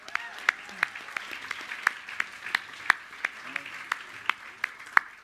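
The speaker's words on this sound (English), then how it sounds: "Let's give them a round of applause." Sparse, evenly spaced claps from a small audience at a fan convention's award presentation, sharp and moderately close, sounding more like scattered individual hands than a full ovation.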